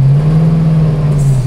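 A 1970 Dodge Challenger's engine idles with a loud, steady low rumble that holds evenly throughout, close by and with no voices over it.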